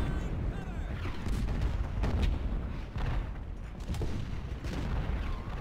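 Ultimate General: Civil War artillery guns fire in a battle, a rolling series of muffled booms and cannon blasts over steady background battle noise, moderately faint with no clear talk.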